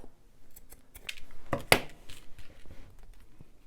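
Scissors snip through junk journal paper ephemera in a few quick, close cuts, with one sharp, loud snip standing out near the middle. Quiet rustling fills the gaps between the cuts.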